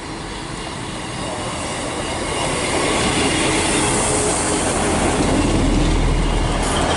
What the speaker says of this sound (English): approaching now is the 11:52 East Midlands train service from Manchester Octave Road to Norwich